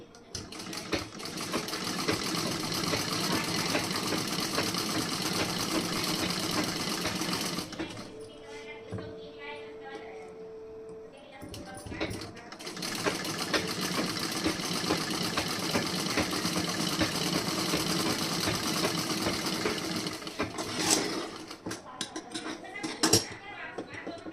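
Sewing machine running a long basting stitch on blouse fabric, a rapid mechanical rattle that pauses for a few seconds midway, then resumes with a couple of sharp knocks near the end. A person talks briefly in the gap.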